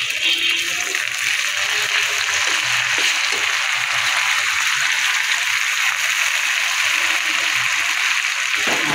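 Ginger garlic paste fries in a pan with lightly fried onions, giving a continuous close bright sizzle with a faint bubbling undertone, steady throughout.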